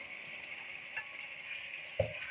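Masala with yogurt frying in a pan and being stirred gives a soft, steady sizzle throughout, with a couple of light stirring knocks, one near the end.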